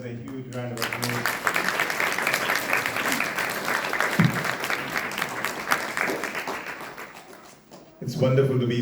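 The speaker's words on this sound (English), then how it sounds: "that really deserves a huge round of applause" Audience applause at an 88th birthday celebration, a sustained dense round of clapping lasting most of the stretch, with a speaking voice briefly before and after it.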